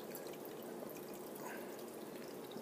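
Water pours in a continuous, even splashing hiss into the reservoir of a Hamilton Beach FlexBREW coffee maker, close and fairly quiet, with no voices.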